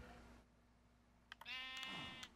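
Farm animal call in the Minecraft video game: a single short, faint bleating cry near the end, following a low, quiet background hum.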